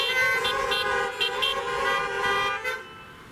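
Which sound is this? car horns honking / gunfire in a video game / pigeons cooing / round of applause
car horns honking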